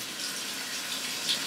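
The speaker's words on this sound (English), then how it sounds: "you have to wash these and then start with other colors" Paintbrushes used for fluid art are rinsed in water between colors, a faint, brief, continuous swish and trickle of water that stays steady and quiet.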